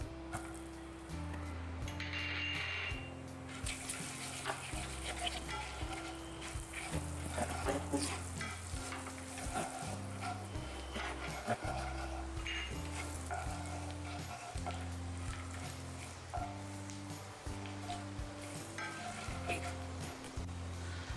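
Spices sizzle and roast in hot oil in a pan while being stirred for Paneer Butter Masala, a steady frying hiss close by with occasional scraping, under a continuous low musical backing.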